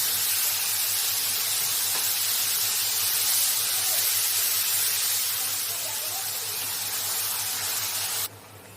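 A paste of ginger, garlic, green chilli and onion fries in hot oil, giving a loud, steady hiss and sizzle close by that cuts off abruptly near the end.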